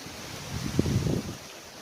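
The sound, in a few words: wind blowing at the beach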